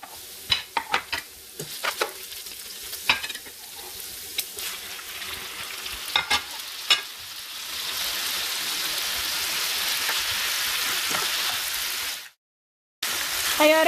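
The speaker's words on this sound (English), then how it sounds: "As you can hear, it's frying with the oil" Steak with onion, jalapeno and tomato fries in oil in a pan. Sharp clacks of stirring come first, then a steady close sizzle builds and holds. It stops briefly near the end before resuming.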